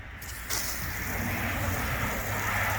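A garden hose spraying water onto a pile of damp leaves being turned into leaf mold, a steady hiss that kicks in sharply after a brief quiet start and keeps rushing evenly, close to the microphone.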